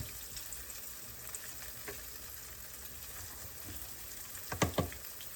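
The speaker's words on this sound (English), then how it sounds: "Now I got my pan hot, and since this is still frozen, I'm putting a little bit in at a time." Frozen okra dropped a little at a time into a hot pan, giving a faint steady sizzle of frying with a few sharper crackling bursts near the end, no one talking.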